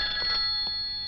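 Telephone ringing in a comedy film scene, a steady electronic ring tone heard fairly close with no talk over it.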